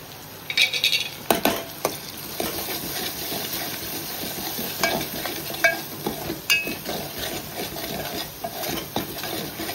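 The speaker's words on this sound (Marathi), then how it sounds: "एक मिनिट परतून घेऊ मसाले" Spices with turmeric, Agri masala and coriander-cumin powder being sautéed in a pan, a soft steady sizzle beneath frequent scraping and clinking of a spoon stirring against the metal.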